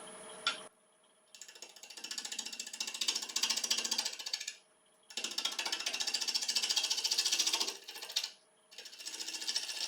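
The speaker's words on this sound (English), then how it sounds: "So I'm going to start off with a 5/8 inch ball gouge." A wood lathe spins a rotten log at about 700 RPM while a 5/8 inch ball gouge cuts it, making a loud, rattling, chattering roar in three long passes with short quiet breaks between them.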